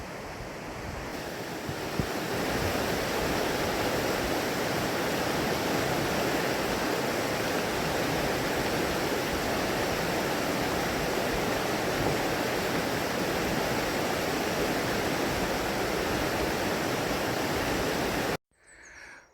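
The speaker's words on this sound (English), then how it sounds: "no adventure is complete without a rope bridge over a raging river" A raging river rushes beneath a rope bridge in a forest valley, a loud, unbroken roar of churning water that swells early on, holds steady, then cuts off abruptly near the end.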